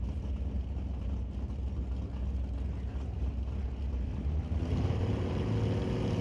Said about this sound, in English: Two more cars rolling forward into the beams